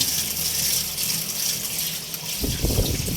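Peeled cassava being washed under running water, a steady close gush of tap water with splashing and churning toward the end as the roots are handled.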